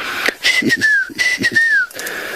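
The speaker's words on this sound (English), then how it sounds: "Is why they have their name, the whistling duck. That's what their call sounds like." White-faced whistling duck calls heard at sunset in the African wild: clear, high sliding whistles in two or three rapid phrases, near and loud, each dropping slightly in pitch.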